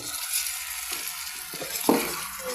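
Pork ribs hitting a hot pot and sizzling for sinigang, a steady close crackle and hiss with a sharper pop near the middle, no voices.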